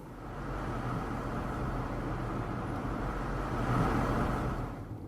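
Audi e-tron electric car moving through Copenhagen city traffic, heard as a steady, even wash of road and tyre noise from inside the cabin with no talk.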